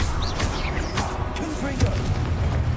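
An Expelliarmus spell is cast in a Harry Potter video game: swooping magical whooshes and sparkly sweeps rise and fall over low rumbling game ambience, with a few soft booms in quick succession.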